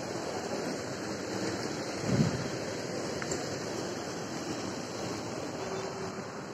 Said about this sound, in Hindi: थोड़ा बहुत बारिश तो अभी भी गिर रहा है।